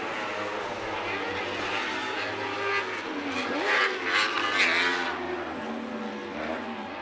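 A Weller Racing SR1 UTV engine roars around a short course race track, a sustained buzzing drone with rising surges as it passes, heard under a commentator talking.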